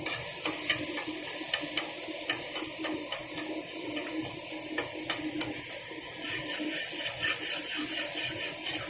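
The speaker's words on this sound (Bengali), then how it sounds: "ওই তেলে এবার দিয়ে দেবো 1 চামচ রসুন বাটা" A spoonful of garlic paste frying in the oil left from frying an egg, for mixed rice, a continuous hiss and crackle with soft, rhythmic stirring scrapes underneath.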